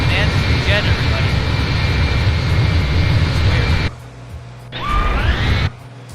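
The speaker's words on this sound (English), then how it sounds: "Got some jets around here. So I got a jet sound." Loud, steady jet engine roar heard from inside the cockpit of a Bonanza V35 in flight, dropping away abruptly partway through, then briefly surging with a rising whine before cutting out again.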